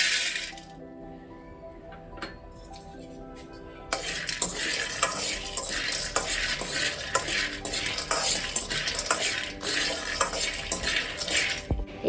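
Peanuts roasting in a kadai are stirred continuously, with scraping metal strokes and a light dry sizzle, quieter at first and then louder and steadier, close up with no talking.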